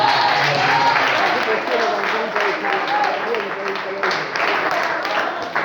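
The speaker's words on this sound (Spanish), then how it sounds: "Dale un aplauso, Señor." A Spanish-speaking church congregation applauds during a sermon, with dense clapping filling the space and voices and shouts mixed into it throughout.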